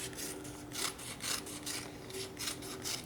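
Scissors snipping and rubbing through kinesiology tape while cutting it into strips, a soft, faint scraping texture pulsing about every half second, close by with no voices.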